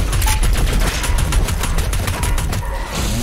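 Rapid, dense gunfire from the Doom Eternal shooter game, including machine-gun bursts, fills the whole stretch loudly and continuously, with battle noise layered over it and no speech.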